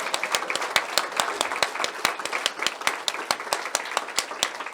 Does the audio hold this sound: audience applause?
yes